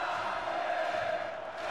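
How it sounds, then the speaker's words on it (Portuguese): Flamengo supporters celebrating in a stadium after a penalty is awarded against Madureira, a dense, steady roar of crowd cheering and chanting that fills the whole moment. "agora sim a torcida do Flamengo faz a festa"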